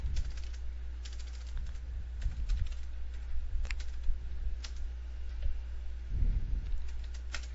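Computer keyboard typing while building a website homepage: faint, irregular clusters of keystroke clicks over a low background hum, with no talking.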